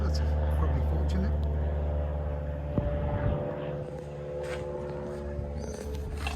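A low-flying aeroplane with its wheels down rumbles close overhead, a loud deep roar that swells and then fades away, with people talking nearby.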